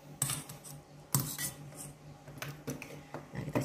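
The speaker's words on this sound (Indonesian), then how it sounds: "Lalu kita mau cincang si udangnya ini." Shrimp being minced with a knife on a cutting board, a series of irregular sharp chopping taps with quieter gaps between them, close and clear.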